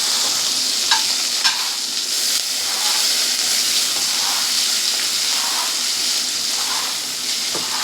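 Chopped ginger, garlic and green chillies fry in hot oil with nigella seeds, giving a continuous close hissing sizzle with occasional sharp crackles and spatula scrapes as they are stirred.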